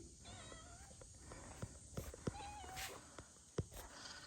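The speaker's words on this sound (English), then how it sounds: "Well, hello, white kitty." A white cat gives a few faint, soft meows indoors, mixed with light thumps and shuffling footsteps close by.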